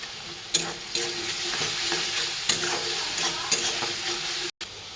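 Spices for bhelpuri, including red chilli powder, fry in oil in a pan while being stirred: a steady close sizzle with sharp scraping stirs recurring every second or so, and a brief dropout near the end.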